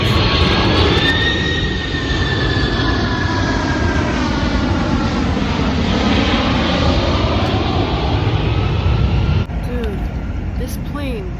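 An airplane jet engine roars loud and close overhead, a sustained rushing drone whose pitch slowly sweeps as it passes before easing off near the end.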